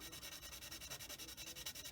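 A sanding stick rubs flash off a plastic part of a 1/35 Italeri M47 tank model kit. The strokes are faint, quick and evenly rhythmic.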